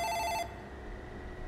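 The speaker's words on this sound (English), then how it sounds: "Phone call." An in-game telephone rings in the simulation game Booth, a bright electronic double trill sounding loudly for about half a second before cutting off to a quiet room tone.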